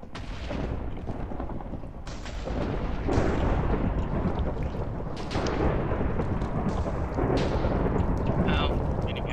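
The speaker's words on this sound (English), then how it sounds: "Getting hit by lightning still." Lightning strikes with repeated heavy thunder booms and crackling blasts in the Minecraft modpack Agrarian Skies, loud and close, as several rumbling bursts follow one another.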